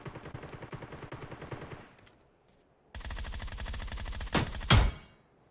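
Gunfire in the mobile shooter game PUBG New State, a rapid automatic burst that fades, a brief pause, then a louder dense burst of shots closing with two sharp, heavy single blasts.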